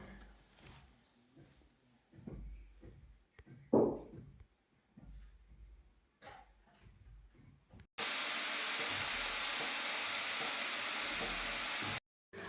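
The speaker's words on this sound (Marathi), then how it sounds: "भाजीला आता मस्त असे आलं लसूण खोबऱ्याची फोडणी दिलेली आहे" Ginger, garlic and coconut tempering sizzles loudly in hot oil for a mixed Bhogi vegetable dish, a steady dense hiss lasting several seconds after quieter kitchen sounds and a brief voice.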